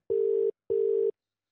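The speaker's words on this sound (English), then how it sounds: "Okay, it's ringing." Two identical steady electronic tone bursts, each about 0.4 seconds long with a short gap between, a telephone ringing tone heard clearly on its own.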